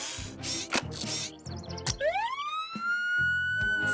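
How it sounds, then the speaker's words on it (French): After some clicks and mechanical knocks, a cartoon fire truck's electronic siren tone sweeps upward and holds, fairly loud and close. "C'est comme ça qu'une sirène doit sonner."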